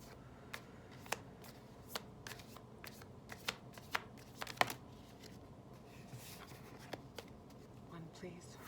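Rumi Oracle Pocket Edition cards are shuffled in the hands, giving soft riffling and scattered light taps and flicks at a quiet level against a faint background.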